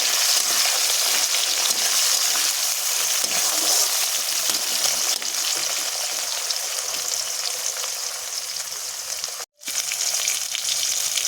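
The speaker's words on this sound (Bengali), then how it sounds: "টমেটো কুচি পেঁয়াজ কুচি দিয়ে আমি ভালো করে নাড়াচাড়া করে নেব" Chopped tomato and onion fry loudly in a hot pan with a little nigella seed while being stirred, a steady close sizzle with scraping stirs, briefly cut off near the end.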